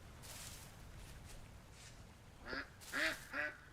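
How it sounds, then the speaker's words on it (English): Ducks in the video game Vintage Story quack in three short nasal calls near the end, following a quieter stretch of ambient game sound. "Oh god, ducks! Ducks."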